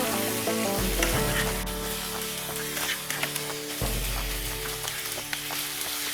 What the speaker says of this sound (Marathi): आता या कांदा टोमॅटोत आपल्याला मॅरिनेट केलेली कोळंबी घालायची आहे गॅसची फ्लेम आपण परत मिडियमवर करतोय आणि छान असं परतून घ्यायचं आहे